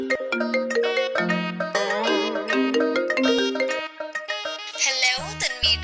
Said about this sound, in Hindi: फोन आ गया, ये तो कमरे में।